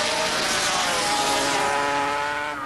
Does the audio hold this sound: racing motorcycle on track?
yes